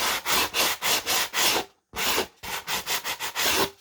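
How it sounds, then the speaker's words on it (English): The cut edge of a foam core board is sanded by hand in quick, even back-and-forth strokes, about a dozen rasping passes with one short pause, close and fairly loud, with no talking. "you can sand it down a little more evenly"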